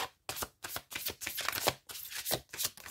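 Oracle cards being shuffled by hand, close and loud, in repeated riffling bursts split by short pauses, with one card briefly slipping out of the deck.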